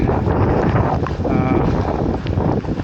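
Strong wind gusting at a lighthouse on the Oregon coast, loud constant buffeting roar against the microphone, with brief talking underneath.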